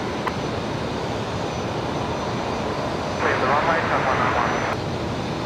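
An airliner's jet engines roar steadily during takeoff at Brisbane Airport, a loud continuous rumble that swells slightly partway through, with a voice talking over it.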